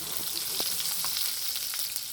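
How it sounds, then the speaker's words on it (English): Meatballs fry in a pan and get turned, giving a steady close hiss with faint scraping and clicking of the turning through the sizzle. "the key with meatballs is you want to keep them moving in your pan"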